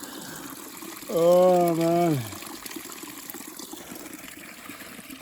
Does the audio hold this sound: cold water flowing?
yes